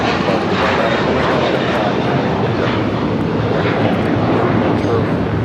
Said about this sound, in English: That was American Airlines 1815 taking off to Miami on the A321.